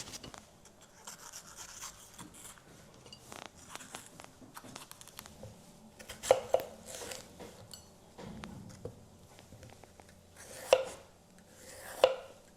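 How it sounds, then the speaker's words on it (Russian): A knife cuts a bell pepper into strips on a cutting board in irregular strokes, with a few sharper clacks standing out amid quieter scraping and handling noises. "Хорошо промыли перец и теперь очищаем и нарезаем."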